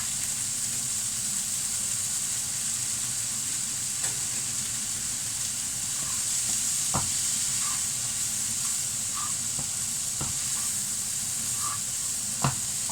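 Broccoli and peas stir-fry in a hot pan with a steady, close, bright sizzle and hiss, broken by a few sharp clicks and taps of a utensil, with no voices.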